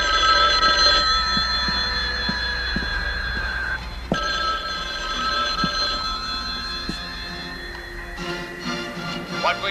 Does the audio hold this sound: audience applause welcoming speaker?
no